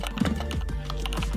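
Continuous close typing on a computer keyboard while entering Dart code, a fast run of clicks over a steady low background hum.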